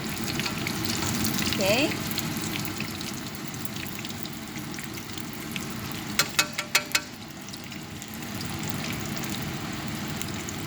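Lumpia spring rolls filled with vegetables and ground pork fry in popping oil, giving a steady loud sizzle with a quick burst of sharp pops near the middle; a voice speaks briefly.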